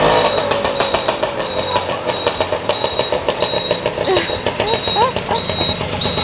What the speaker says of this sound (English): I can hear him driving right up the road